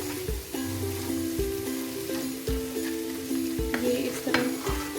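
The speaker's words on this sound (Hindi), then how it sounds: "आलू को हम अच्छे से मिक्स करेंगे।" Chunky boiled potatoes for a samosa filling are stirred and mixed in a hot pan, giving steady scraping strokes roughly once a second over a continuous soft sizzle, close and moderately loud.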